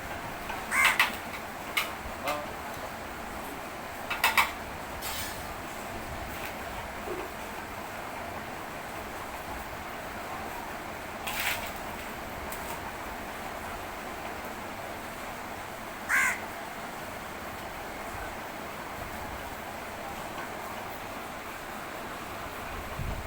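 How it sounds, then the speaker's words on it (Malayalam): Crows caw outdoors at a middle distance, with a few separate calls spread across a steady background hiss. "കാക്കയ്ക്ക് ഒരു പങ്ക് കാക്ക വന്നിരിപ്പുണ്ടോ"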